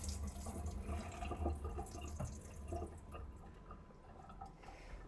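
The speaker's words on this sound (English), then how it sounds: "Now it's important I get all this water out of our washed rice." Water draining from washed white rice, a steady close trickle and splash of running water with faint drips, as in a sink.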